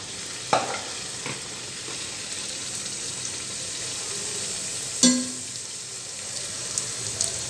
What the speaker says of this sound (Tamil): இப்போ நம்ம செஞ்சு வச்சது எல்லாமே ஒன்று ஒன்றா போட்டு பொறிச்சு எடுத்துடலாம்.